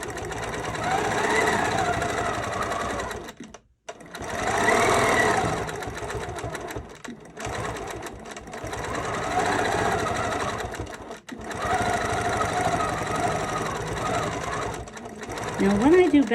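A sewing machine runs while free-motion quilting feathers along a curl, backtracking over its stitches: a loud, close, steady mechanical whir in long bursts, broken by two brief stops.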